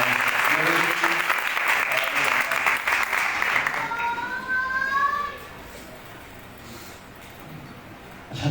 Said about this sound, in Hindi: ताली भी बजाइए